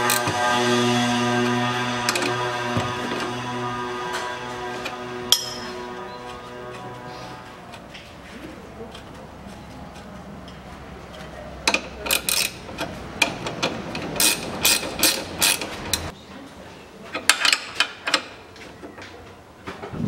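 Bolts on the rear suspension rods of a 2005 Chevrolet Niva 4x4 are tightened with a ratchet, first a steady whirring hum, then bursts of close, sharp clicking ratchet strokes in several rapid runs, with no talk.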